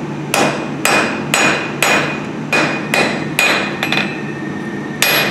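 A hammer rings sharply against a forged steel handle on an anvil, about ten evenly paced metallic strikes close up with bright ringing tails between them, and no voices.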